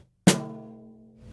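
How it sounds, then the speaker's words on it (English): A single unmuffled snare drum hit, a sharp crack followed by a long, ringing tonal sustain that lingers clearly for about a second. "For the snare drum, again, I don't use any type of muffling, so it sounds like this."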